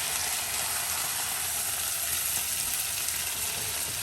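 A spatula scrapes and lifts a fried skate wing from a sizzling pan, the steady frying hiss filling the background with faint scraping clicks over it, no voices.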